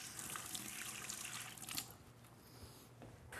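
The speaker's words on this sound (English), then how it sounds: "Wash my hands off." Tap water runs steadily into a kitchen sink as hands are washed, a soft continuous trickle and splash that thins out midway and carries on faintly to the end.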